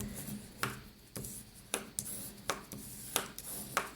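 Paper file folder edge being folded over by hand, giving soft crisp creases and rubbing swipes in a repeating rhythm of about six short strokes, close and fairly quiet.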